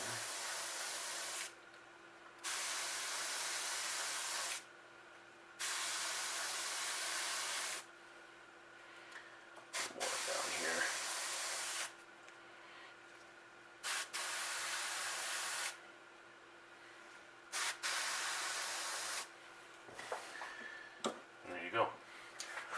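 Spray paint hisses through a 3D stencil onto a fishing bait in repeated bursts of a few seconds each, separated by pauses with faint handling sounds and a low background hum.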